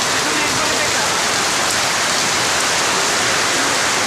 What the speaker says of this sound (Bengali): আমি এই বৃষ্টিতে বাইরেও যেতে পারছি না, শুধু বৃষ্টিকে আপনাদের কাছে থেকে দেখার জন্য